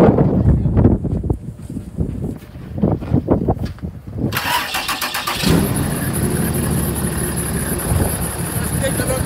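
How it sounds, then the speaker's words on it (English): A 2012 Ram 3500 diesel truck engine cranks and fires up, settling into a loud, steady diesel idle after someone speaks briefly beforehand. "I'm going to be starting the truck just to show you."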